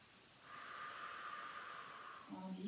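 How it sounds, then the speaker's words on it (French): A slow, steady exhale of about two seconds during a sophrology relaxation breathing exercise. It is a soft, even breath sound, and a voice begins speaking right after it. "Et expirez tranquillement"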